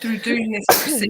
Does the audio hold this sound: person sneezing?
yes